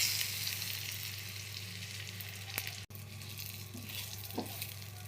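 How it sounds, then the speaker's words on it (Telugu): Sesame seeds, green chillies and a little cumin frying in a pan, giving a steady, close, fairly quiet sizzle with a brief scrape near the middle and no talking. "నువ్వులు అయితే దారేపు వచ్చేదాకా వేయించుకోవాలి."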